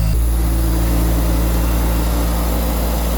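A Mazda RX-7 Turbo II rotary engine idles high after a mid-winter cold start from storage inside an enclosed space, a steady, loud, continuous drone with no talk.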